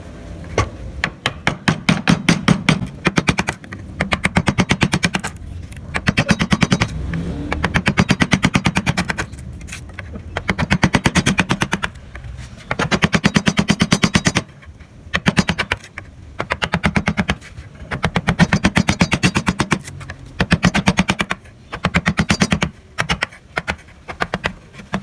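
A pahat penguku chisel is struck repeatedly while carving Balinese wood, giving rapid, sharp tapping bursts in dense rhythmic runs broken by short pauses, close and loud without talk.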